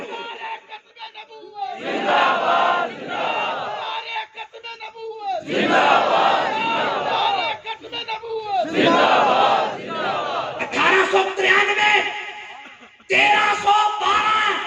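Crowd at a religious conference roars back chanted slogans in call-and-response waves, a leading voice shouting and the mass of voices answering in loud bursts separated by brief gaps.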